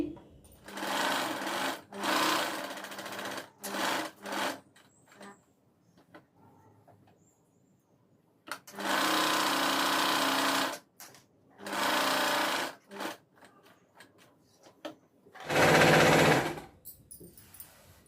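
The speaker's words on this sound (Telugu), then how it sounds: "లైనింగ్ వెంబడి కుట్టుకుంటా వచ్చేసామంటే మనకి అటాచ్ అయిపోతుందండి" A sewing machine stitches a blouse front piece along its lining in several loud, rapid bursts of running stitches, separated by quiet pauses while the fabric is adjusted.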